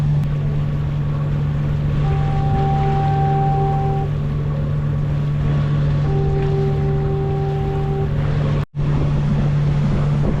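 A sailboat motors into the wind with a steady low engine drone, wind buffeting and water rushing past the hull, constant and close, broken by one brief dropout.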